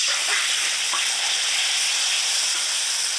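Ground spice paste mixed with powdered spices, added to hot oil with fried onions in a kadai, sizzling in a steady close hiss with no talk.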